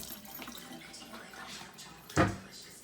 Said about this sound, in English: I'm gonna come over and wash my hands.